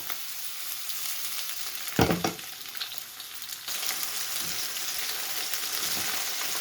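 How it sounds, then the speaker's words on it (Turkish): Green peppers frying in about five spoonfuls of olive oil in a pan, a soft steady sizzle throughout with a brief clatter as they are stirred or moved; close and quiet, with no talk. "Beş yemek kaşığı zeytinyağı ekledim tavama ve biberlerimi ekliyorum."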